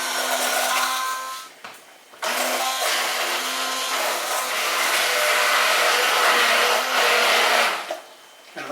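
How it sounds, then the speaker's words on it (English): A hand blender whirs loudly and steadily through curry batter, close up, briefly stopping and restarting before running on with a high, buzzing motor tone, with no talking. "I like to use a hand blender for the batter to get it really fine."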